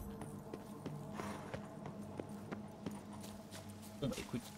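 Horse hooves clip-clop at a steady walking pace in The Witcher 3, with rhythmic mid-loud thuds and faint game ambience beneath.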